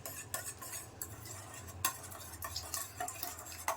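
Eggs and salt are whisked for an omelette in a bowl, quiet rapid clicking and tapping of a utensil against the sides in an uneven rhythm, close and soft with no voices.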